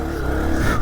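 A Honda CRF300F trail bike engine revs in a short, steady burst, close and moderately loud, with a rising throttle tone.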